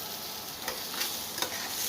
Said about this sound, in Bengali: তার জন্যই পেঁয়াজটা ভাজা হচ্ছে।